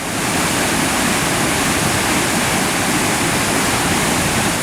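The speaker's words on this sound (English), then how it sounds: "Just down around that corner is a raging waterfall" A raging waterfall in the Arctic wilderness roars in a loud, dense, unbroken rush, close by and steady throughout.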